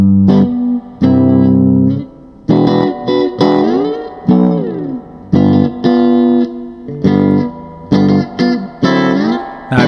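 An electric guitar plays through a Fender Super Reverb amp with its reverb turned up, a series of plucked notes and short phrases ringing out with a wet, washy tail between attacks, loud and alone.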